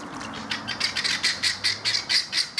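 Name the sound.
Cape Barren geese calling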